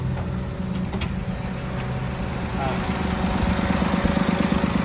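An old car whose previous owner recently fitted a replacement engine sits running, a steady low idling rumble that grows slightly louder toward the end, with people talking over it.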